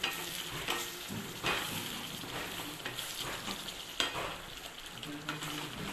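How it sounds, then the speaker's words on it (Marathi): Masala frying in a pan for paneer tadka, with a steady sizzle and repeated scraping strokes of a spoon stirring it, close and moderately loud with no talking. "हे बघा छान असा मसाला परतलेला आहे"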